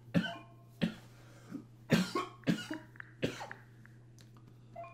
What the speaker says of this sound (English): Thought I got over that cough